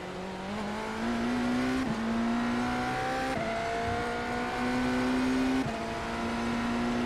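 A race car engine howls loudly out of a corner, its steady tone broken by several abrupt gear changes that jump the pitch before it settles and drones on.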